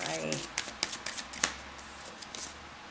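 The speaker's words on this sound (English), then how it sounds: "I'm going to go ahead and pull and get your cards laid out." Tarot cards being shuffled and laid out, a string of soft papery riffles and light flicking taps, close and fairly quiet, while a person talks over them.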